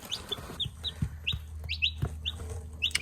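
Newly bought chicks in a brooder box give repeated short high peeps in quick pairs and bursts, close and clear, with a few soft thumps underneath.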